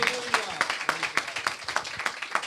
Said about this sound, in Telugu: చప్పట్లు కొట్టి గట్టిగా ప్రభువును మహిమపరచండి.